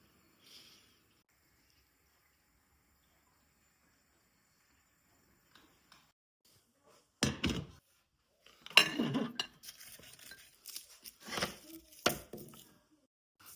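Cabbage sliced thin with a knife on a cutting board, bursts of quick crisp cuts in clusters after a long quiet stretch, close and clear with no talking.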